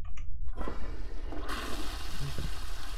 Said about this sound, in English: Give it a good flush